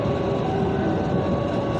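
A crowded commuter train rumbles past close by in Jakarta, a steady low roar with faint metallic whine, continuous with no voices.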